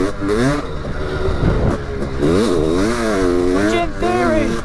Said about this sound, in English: This is the first time I've ridden our fuel-injected 500cc two-stroke since we swapped out the old TPI system for this high-tech brand new TBI system.